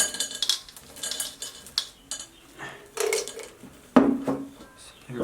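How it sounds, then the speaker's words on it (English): Potting soil scooped into a bowl by hand or with a small tool for potting plants, giving a series of close, irregular scrapes and soft scratchy rustles with brief quiet gaps. "I'm going to kind of scoop some dirt on top of this"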